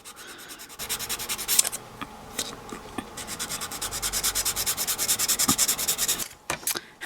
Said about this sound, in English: Don't have a whole lot of filing to do.